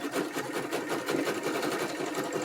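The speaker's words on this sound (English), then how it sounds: "Sewing all around." A sewing machine stitches steadily around a decorative fabric cover, its fast rhythmic needle chatter running loud and continuous throughout.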